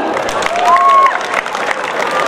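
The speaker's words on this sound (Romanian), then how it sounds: "pe doamna director Daniela Calistru, să o aplaudăm." A crowd claps and cheers in a steady wash of applause at a school year opening ceremony, fairly loud and close, with a voice rising briefly over it.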